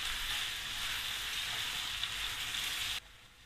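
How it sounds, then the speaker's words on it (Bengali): Chopped carrot stir-fries in hot oil with garlic, sizzling loudly and steadily up close for about three seconds before dropping to a quieter hiss. "হালকা একটু তেলে নেড়ে চেড়ে নিব গাজরটাকে।"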